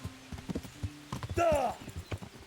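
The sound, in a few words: horse hooves clip-clopping, video game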